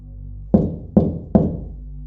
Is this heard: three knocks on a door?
yes